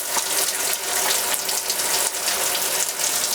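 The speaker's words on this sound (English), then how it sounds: "And I'm just rinsing it out of the shower." Water runs steadily from the shower of an Airstream Flying Cloud 23FB travel trailer, a dense, even hiss of spray with no pauses.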